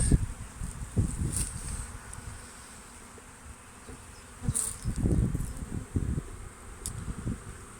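Honeybees buzz steadily around an open hive during a spring inspection, a dense close hum with louder swells as bees pass near, alone without talk.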